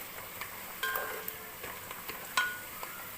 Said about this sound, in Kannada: ಚೆನ್ನಾಗಿ ಈಗ ಈರುಳ್ಳಿ ಫ್ರೈ ಆಗಿದೆ